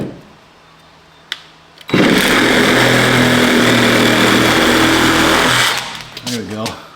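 An angle grinder cuts into plastic while reassembling a Duramax truck, a loud steady high-pitched whine running about four seconds before spinning down, with brief talk at the edges.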